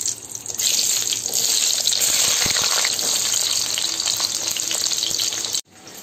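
Peeled sambar shallots and a whole head of garlic sauté in hot oil in a pan, making a loud, steady sizzle and crackle that runs unbroken until it cuts off abruptly near the end.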